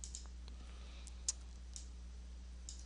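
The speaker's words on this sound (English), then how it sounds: "Let's click OK." A single soft mouse click on an OK button in slideshow software, faint and alone over a low electrical hum, with a few other tiny clicks around it.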